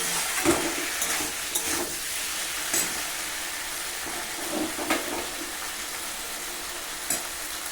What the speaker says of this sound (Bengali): এখন পরিমাণ মতো জল ঢেলে দিতে হবে।